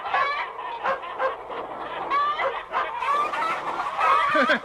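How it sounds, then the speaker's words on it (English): A flock of hens clucks and squawks continuously, busy and agitated, close by with no talking, as they are shooed into the roost. "Shooing the hens into the roost."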